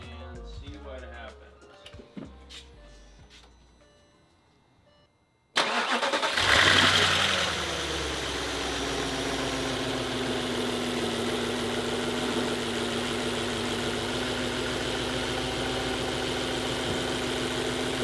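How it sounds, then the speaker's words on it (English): A Volkswagen Touareg V8 cranks with quiet clicks and shuffling, then suddenly fires up loudly and settles into a steady, even idle that continues close by to the end. "We're gonna try to start it and see what happens."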